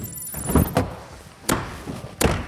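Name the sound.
car door being opened or shut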